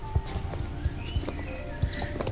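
Horse hooves in the Star Stable video game, a sparse series of clip-clop steps at an unhurried walking pace, each hoofbeat distinct and fairly close, with light ambient game sounds between them.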